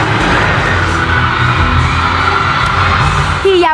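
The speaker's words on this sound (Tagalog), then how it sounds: "Hiyawan ng mga fans ang sumalubong sa cast ng Sayo Lamang." A crowd of fans screams and cheers to greet the Sayo Lamang cast at a mall tour, a dense, loud, continuous roar that holds steady throughout with a whistle-like squeal at the end.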